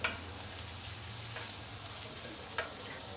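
Small potatoes cooking on a griddle sizzle with a low, steady hiss, broken by two sharp clicks of a utensil, one at the start and one near the end, with no talking.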